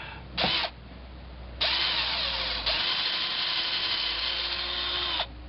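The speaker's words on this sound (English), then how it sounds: "So we gotta drill our pilot hole." A power drill whines in a short burst, pauses, then runs steadily for several seconds while boring a pilot hole into wood, close and loud.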